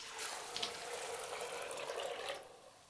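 Hot water pours steadily into a pot for a few seconds, a continuous splashing rush that tapers off at the end.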